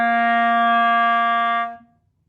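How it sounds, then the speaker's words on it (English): A single sustained reed instrument note holds steady and clear, then is stopped by the tongue on a D, fading quickly to silence. "end the note with D, it will sound like this"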